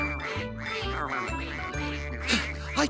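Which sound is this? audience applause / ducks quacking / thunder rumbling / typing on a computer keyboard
ducks quacking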